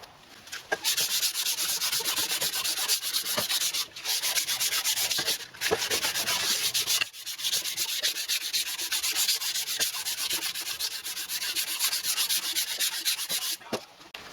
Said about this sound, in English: I'll just use this to sand it completely flat